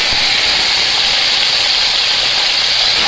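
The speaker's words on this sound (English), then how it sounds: "my pan's already nice and hot. And here, I'm just going to add each of my pork steaks" Pork steaks are laid into a hot pan, producing a loud, continuous bright sizzle that holds steady throughout.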